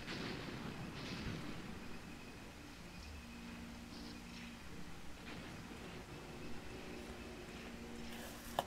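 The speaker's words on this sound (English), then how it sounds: "Of course, we're going to open fire on it" Tank gunfire in a WW2 desert night battle in Tunisia, 1943, within a video game: steady low rumble of distant artillery and battle noise with scattered dull booms and a sharp crack near the end.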